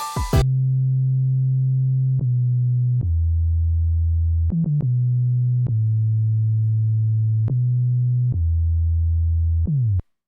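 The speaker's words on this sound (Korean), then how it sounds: "그래서 이런 베이스가 중간부터 나와주고" Synth bass sample from a K-pop song project, sounding pure, deep sustained tones that step between a few pitches in a slow rhythm, clean and alone with sharp note starts.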